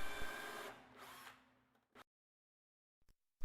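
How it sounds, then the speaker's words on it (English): A power drill bores countersunk pilot holes through a wooden base into the center divider of a dressing-mirror case, a close, loud whirring run that winds down and stops, followed by quiet and a couple of small clicks. "countersunk pilot holes drilled through the base and into the center divider"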